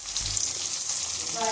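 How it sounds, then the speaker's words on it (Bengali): Fish sizzles in hot oil in a pan, a brief steady hiss of frying heard up close with no talk. "এই যে মাছগুলো এখন ভাজছি"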